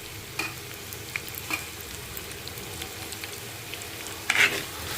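Onions tossed into a pan of frying carrots while making semiya upma, giving a steady, soft sizzle with a few sharper spatula scrapes and one louder clatter near the end, close up and with no voices.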